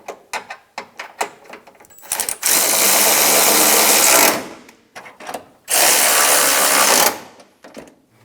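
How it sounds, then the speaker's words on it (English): Power tool driving bolts on a 2000-2006 Toyota Tundra radiator, two sustained loud whirring bursts of a couple of seconds each, framed by clanks and handling knocks. "Snug the bolts down."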